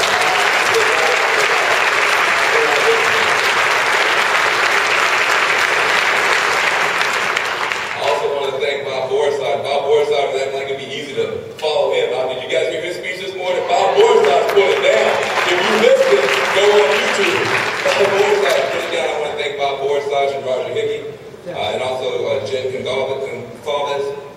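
A crowd at a political rally for Take Back the American Dream 2011 breaks into loud, dense applause that fades after several seconds into someone speaking through a PA, with scattered cheering and clapping returning under his voice.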